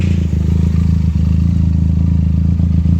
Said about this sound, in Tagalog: At dahil sa tunog, pakiramdam ko, taka-sports bike ako